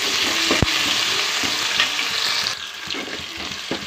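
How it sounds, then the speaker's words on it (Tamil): Crushed onion and garlic sauté in a pan for fish curry, giving a loud, continuous crackling sizzle with occasional stirring knocks, and no voices. "வெங்காயமும் பூண்டும் தட்டி வச்சுருக்கோம். நம்ம வதக்கிக்கலாம்."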